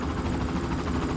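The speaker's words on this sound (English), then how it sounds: "The helicopter will just fly away." Helicopter in the Far Cry video game, a steady broadband rotor and engine roar that holds at constant loudness throughout, with no voices.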